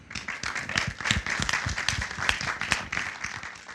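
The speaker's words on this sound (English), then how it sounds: "So round of applause for Rich Lenkoff" Audience applause for Rich Lenkoff at an arts producers panel, a steady wash of many hands clapping close and fairly loud, with a few sharper individual claps standing out over the continuous patter.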